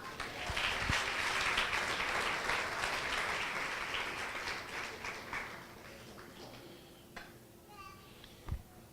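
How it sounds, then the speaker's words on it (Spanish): A church congregation applauds the women, a dense wash of clapping that gradually fades and thins out, with a few scattered claps and faint voices near the end. "pero desen un aplauso a ustedes."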